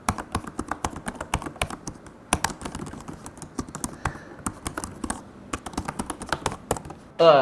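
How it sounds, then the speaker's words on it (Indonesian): Typing on the Advan AI laptop keyboard with an Intel Core Ultra 5 chip, close and crisp, a steady run of quick key clacks with short pauses and a slightly louder burst at the end. "Gue akan dengerin teman-teman suaranya seperti apa keyboardnya ya."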